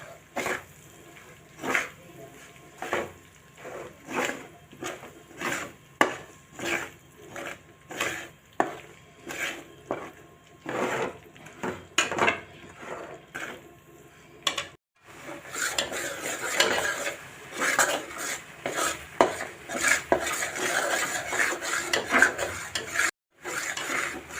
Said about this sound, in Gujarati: તો આ રીતે આપણે ધીમા ગેસ ઉપર લોટને શેકીશું.